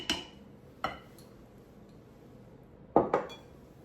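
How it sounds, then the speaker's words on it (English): Pumpkin bread batter of combined wet and dry ingredients is stirred in a bowl, giving a few sparse clinks of utensil against the bowl, one early, one near the middle and a quick double knock near the end, close and quiet. "Stir it up gently."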